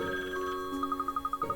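A phone rings in the Layton Mystery Journey video game, a bright electronic trill of rapid repeating pulses that follows a sustained musical tone, clear and fairly close.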